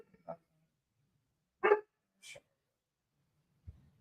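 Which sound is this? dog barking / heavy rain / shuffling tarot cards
dog barking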